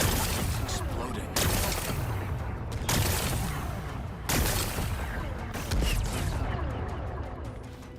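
Explosions blast away rocks in Horizon Forbidden West, a dense wash of booming rumbles and crackling debris with several sharp blasts in quick succession, loud and continuous under game sound.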